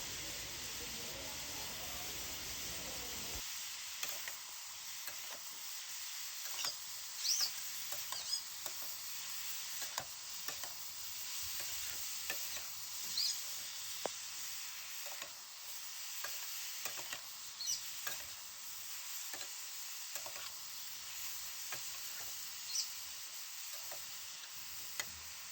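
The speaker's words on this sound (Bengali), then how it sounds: "নুন হলুদ দেওয়ার পর আবারও ভালো মতো নেড়ে নেব" Ash gourd cooks in a pan with salt and turmeric, a quiet hiss and sizzle carrying on throughout while a spoon scrapes and stirs now and then.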